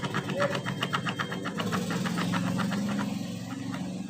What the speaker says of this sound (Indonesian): Di sini di bearing nongken as terdapat suara bunyi kasar.